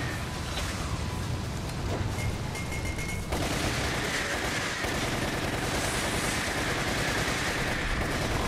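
Sustained machine gun fire in Resident Evil The Umbrella Chronicles, a dense continuous rattle of rapid shots running the full length with a brief surge partway through, loud and steady with no talking.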